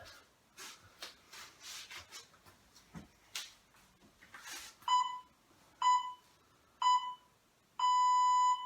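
A workout interval timer during an abs and core session gives three short, loud beeps about a second apart, then one long sustained beep, after soft rubbing and shuffling noises.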